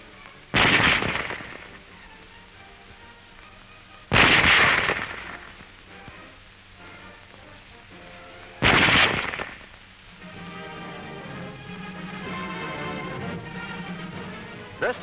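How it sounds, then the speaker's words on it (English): A German Model 98K bolt-action rifle fires three sharp, loud shots at intervals of about four seconds, with quieter background noise between them. "Loading and firing the Model 98K is the same as our own Springfield"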